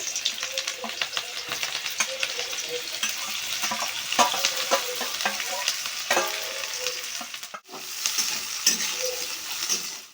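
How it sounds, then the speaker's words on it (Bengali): Onion, garlic and chilli go into hot oil in a wok, giving a loud, steady close sizzle with stirring scrapes throughout and a brief dip near the end. "এবার এই পেঁয়াজ রসুন লঙ্কাগুলো আস্তে আস্তে দিয়ে দেবো।"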